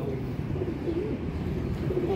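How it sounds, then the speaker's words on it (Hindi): Low, soft cooing of pigeons rolls continuously over a murky background, with faint bird chirps mixed in. "असली और नस्ली कबूतर है और परवाजी कबूतर है"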